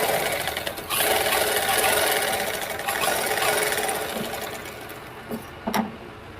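A domestic sewing machine runs steadily, stitching a straight half-inch seam along a blouse lining, a continuous close mechanical whirr that slows and stops near the end with a couple of short bursts.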